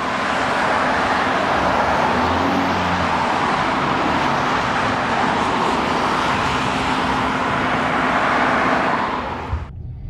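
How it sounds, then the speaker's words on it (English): Vehicles driving off a ferry at a terminal, a continuous loud rumble of engines and tyres close by that holds steady for about nine seconds, then drops away abruptly. "Traffic is coming off now."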